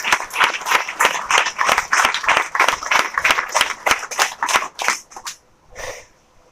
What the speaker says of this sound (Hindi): तो एक बार फिर से सर के लिए आप लोग ताली बजा दीजिए।